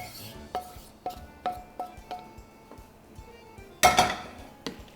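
A pan being scraped and cleaned out in a home kitchen while making Greek-style shrimp and orzo salad, a series of sharp metallic clinks and knocks at irregular intervals, close and clear, ending in a louder clatter.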